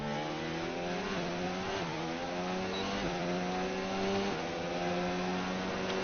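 A Formula 1 car in the F1 game runs at high revs, its engine whine rising and dropping through gear changes, with a Scuderia Ferrari close behind. The engine drones on steadily with no talk over it.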